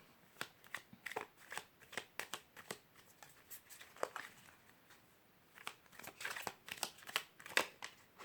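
Tarot cards are shuffled by hand in quick repeated riffling bursts, close and soft, with brief pauses between the rustling flurries.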